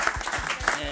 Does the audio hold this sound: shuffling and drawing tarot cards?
no